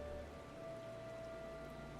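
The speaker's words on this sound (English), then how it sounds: "And the rain is on." Soft, steady rain in Final Fantasy XIV falls as a faint, even hiss with a low background tone, continuous and unbroken throughout.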